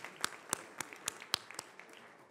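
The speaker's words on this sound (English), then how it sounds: "let's have a round of applause for our executive chef, Susan Delbert, and her staff" Scattered, fairly sparse claps from a dinner audience honoring the executive chef and her kitchen staff, sharp individual hand claps spaced out over a couple of seconds with no talk.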